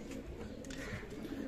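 Imported UAE Teddy pigeons at a seller's place in Mumbai's Andheri West coo softly and faintly over a low, steady background murmur.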